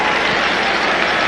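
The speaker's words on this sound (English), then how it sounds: "the nice reception from the crowd" A large stadium crowd at a 1991 Cincinnati at Houston football game, a short loud roar of applause and cheering, dense and continuous.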